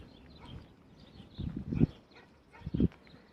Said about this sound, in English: the sound of that dog barking is, I believe, the one that was barking when I came here the other day